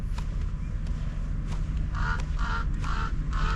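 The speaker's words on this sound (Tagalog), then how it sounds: "Uwak." A crow calls on Jebel Hafeet mountain at the Oman border, four harsh repeated caws in quick succession over steady wind and low background rumble.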